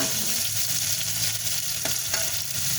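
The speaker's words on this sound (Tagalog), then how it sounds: "Sunod natin yung kamatis. Gisa-gisa muna." Tomatoes are sautéed in a pan with a close, steady sizzle, broken by a few sharp pops and light stirring scrapes.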